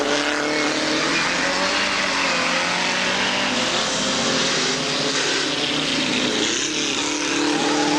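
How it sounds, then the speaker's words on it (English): Austin 7 Mouse and other cars racing at a 750 Motor Club circuit meeting, a dense, steady engine roar holding at constant loudness throughout with no talk over it. "Vince Leake is racing the Austin 7 Mouse"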